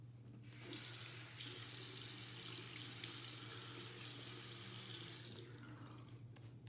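Tap water running steadily into a sink while preparing a boar-hair shaving brush, a continuous close hiss that starts abruptly, holds for several seconds, then shuts off, with a low steady hum underneath.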